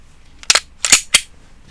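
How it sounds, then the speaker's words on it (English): A Glock 19 pistol slide is racked and locked to the rear, giving three sharp metallic clacks within about a second, close and loud with no talking. "That's how you would lock a slide to the rear."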